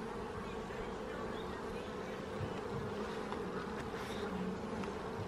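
Honey bees from a new colony drone steadily during a hive inspection in its fifth week, a close, continuous buzz that holds at an even level throughout with no talking.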